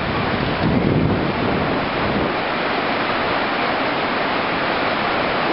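Heavy rain and gusting wind drum steadily on a cover outdoors in London, a dense continuous hiss that stays loud and close throughout with no voices.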